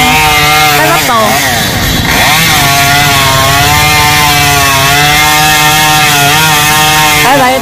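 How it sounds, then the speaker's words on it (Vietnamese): Chainsaw engine roaring steadily while cutting a fallen banyan tree trunk into sections, the pitch dipping and rising as the bar bites into the wood, loud and close throughout. "mới chia ra cưa từng khúc"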